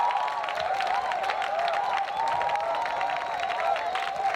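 A large crowd at an evangelism crusade applauds and cheers steadily, with dense clapping and shouts of joy over a sustained tonal warble throughout.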